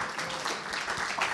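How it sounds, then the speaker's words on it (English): A crowd applauds, its clapping blending into a dense, steady wash of sound. "Give yourselves a round of applause for being here."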